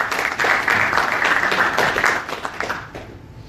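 Audience applause at a seminar, a steady wash of many hands clapping close by that holds for about three seconds, then thins out toward the end.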